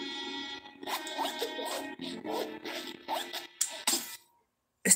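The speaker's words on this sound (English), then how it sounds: "grab the zipper and I'ma just go." In the video game Chicken Police, a zipper is pulled in a series of short, quick rasping bursts, close and crisp, ending in silence before a final click.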